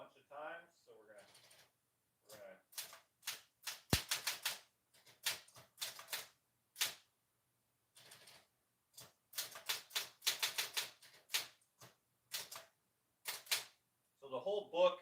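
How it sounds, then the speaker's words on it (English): Typing on a typewriter, with sharp mechanical key strikes coming in irregular bursts and short pauses, close and clear, and a voice speaking briefly at the start and end. "So the whole book has been typed out on this typewriter"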